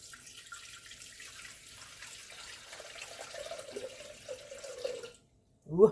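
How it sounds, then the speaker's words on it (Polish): Water pours from a container into a Thermomix TM6 jar, about 500 grams of it, with a soft splashing stream whose pitch rises as the jar fills before cutting off, then a brief clunk at the end. "Ja wlewam 500, tak?"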